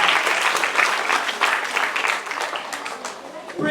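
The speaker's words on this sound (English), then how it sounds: "Abulele Dennis, a round of applause for her." Audience applause for an award recipient at a school maths festival prize-giving, steady dense clapping from a large crowd that carries on for several seconds with no talk over it.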